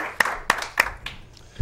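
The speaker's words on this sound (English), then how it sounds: "And let's have a round of applause." A few scattered claps from a small studio audience at a local El Monte talk show, about four separate hand claps spaced apart, fairly close and fading out.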